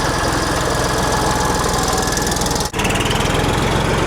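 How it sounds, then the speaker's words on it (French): Valtra three-cylinder tractor engine running: a loud, steady, rough chugging drone with a fast regular knock, close up, with one brief dip in the middle and otherwise unbroken. "Du coup, c'est un 3 cylindres, il fait un boucan pour pas grand chose."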